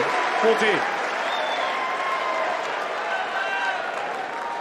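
The Wimbledon crowd applauds Novak Djokovic after a point in a 2022 match, a broad, even roar of clapping from a large stadium audience, with a brief voice near the start and commentary over the top.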